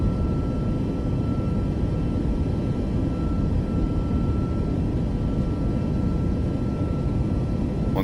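Boeing 737 MAX 8 jet on its takeoff roll in a flight simulator game, a steady, moderately loud broadband engine roar with a faint whine, continuous and unbroken.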